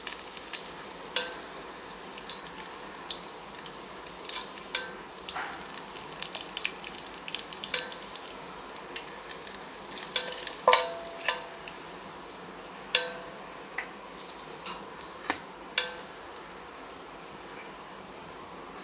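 Biryani masala hitting hot oil in a pan, giving a faint, steady sizzle with scattered light clicks and scrapes of stirring, quiet and close with no one talking.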